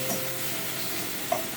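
Chopped tomato sizzles in a pan with ginger, garlic and onion paste, a soft steady frying hiss with one brief clink near the end, faint and close with no talk.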